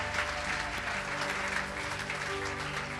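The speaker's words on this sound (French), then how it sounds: "acclame pour le Seigneur" A church congregation applauds and cheers for the Lord during a French-language sermon, a dense, steady wash of clapping that fills the space without a break for the full three seconds.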